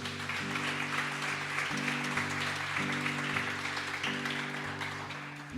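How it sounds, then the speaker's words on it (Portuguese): A church congregation applauds during a service, a steady wash of clapping heard at moderate level beneath sustained organ or keyboard chords that shift in pitch. "dá um forte aplauso ao Senhor Jesus."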